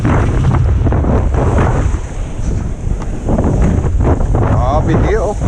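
White water waves rush and churn around a wing foiler at sea, with loud, steady wind buffeting the microphone throughout and a brief splashing surge near the end.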